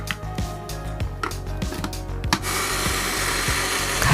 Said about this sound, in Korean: 믹서기에 갈 때는 배를 먼저 넣고